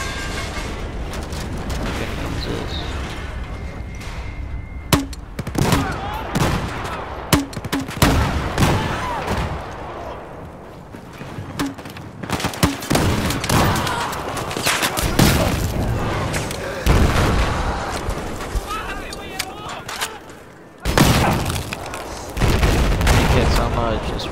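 Battlefield 4 combat on Xbox One roars with missile explosions, booming blasts and bursts of rapid gunfire, loud and continuous with heavy impacts, while a player's voice breaks in at times.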